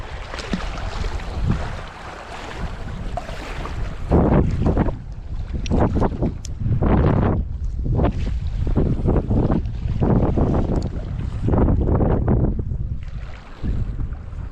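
Strong wind buffets the microphone in loud, surging gusts during trout fishing, with a steady roar rising and falling throughout and no talk.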